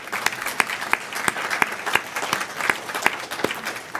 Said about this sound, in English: everybody give them applause